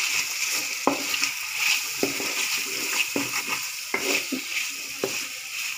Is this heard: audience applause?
no